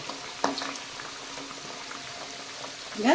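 Sev dough, made from kabuli chickpea batter, sizzles and bubbles steadily in hot frying oil, with a brief louder crackle near the start and a swell of hissing at the end.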